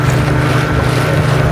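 A 16-foot motorboat engine hums steadily at speed on the sea off Araly, Jaffna, a constant low drone mixed with wind and rushing air, loud and close.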